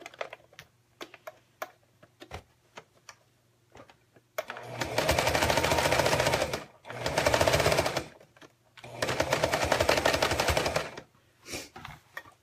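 A sewing machine sews with a quarter-inch seam allowance in three separate runs of rapid, buzzing needle strokes, each lasting one to two seconds, with scattered clicks and handling taps in the pauses between.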